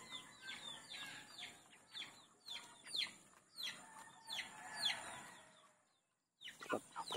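Rhode Island Red chickens cluck and chatter steadily at feeding time, a busy flock of overlapping calls close by that briefly goes quiet before picking up again.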